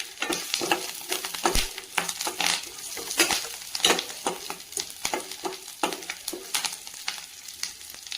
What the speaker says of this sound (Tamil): 4 பச்சை மிளகாய் கீறி வச்சுருக்கோம், அதை போட்டுக்கலாம்.